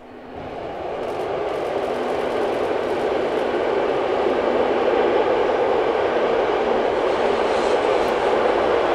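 Steady, loud rumble of a German Bundesbahn train rolling by in the Ries region, broadband rushing noise with faint rail clatter and no voices, building quickly and holding throughout.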